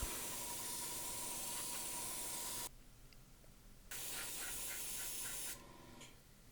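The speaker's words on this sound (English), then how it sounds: "So I'm spraying the entire body with this color mix." Hissing bursts of aerosol spray paint onto a model railroad boxcar body, loud and steady, stopping briefly twice before resuming, with no talking.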